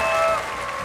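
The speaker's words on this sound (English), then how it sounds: "Please give him a big round of applause." Audience applause greets the Gran Turismo producer at a GT World Series esports event in London, a dense wash of clapping that tapers slightly over a brief moment.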